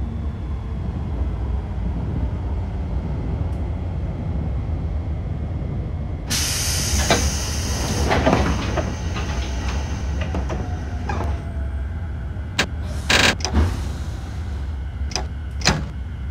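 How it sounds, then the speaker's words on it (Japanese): Doors of a Keiyo Line 205 series commuter train closing at Shin-Kiba station in a BVE5 train simulator: steady platform ambience, then a sudden sharp air hiss followed by clunks and several short pneumatic bursts of the doors shutting. "2番線ドアが閉まります。"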